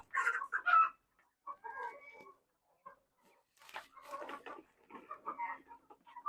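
Kadaknath and Rhode Island Red hens clucking nearby, a few loud bursts of calls separated by short pauses, with no talking over them.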